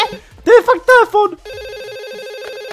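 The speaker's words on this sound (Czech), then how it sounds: "Go down to the first floor and answer the phone." Telephone ringing in a Minecraft game world, a steady electronic ring tone repeating after a burst of speech, loud and close.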